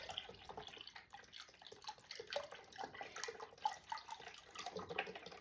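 Chicken broth poured from a carton into a crockpot for creamy Alfredo lasagna soup, a soft, uneven liquid splashing and trickling, close but quiet, with no voices.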